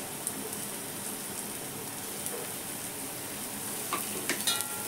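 Garlic, green chili and coriander paste frying with asafoetida and onion in a pan, a continuous close hiss and crackle with a few faint stirring knocks near the end.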